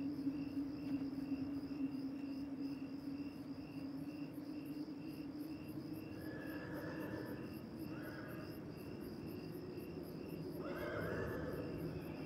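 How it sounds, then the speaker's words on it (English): A horse neighs faintly in a dark, eerie scene from the TV series Twin Peaks, brief whinnies emerging midway and again near the end over a steady droning hum and a constant chirping insect-like background. "once the woodsman walks off from the darkness and then hearing the horse"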